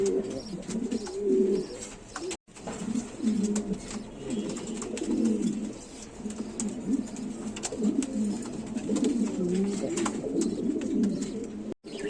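King pigeons, a yellow male and a black female among other birds, coo continuously in low rolling throaty calls that overlap into a dense, close murmur.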